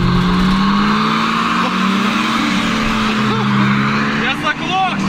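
An old Audi 4.2 revs loudly in a race against a BMW, its engine drone rising and wavering and then faltering as it stalls, with tyre and road noise and excited shouting over it.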